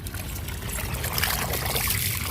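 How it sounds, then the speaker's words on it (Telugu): Water pours and splashes steadily into a bucket being filled for watering garden plants, a close continuous gushing trickle. "బకెట్ నిండిందని చూద్దాం."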